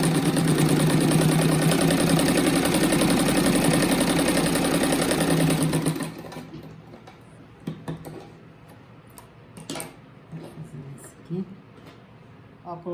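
A sewing machine runs a fast, steady stitching seam for about six seconds, loud and close, then stops, leaving faint clicks and handling noises.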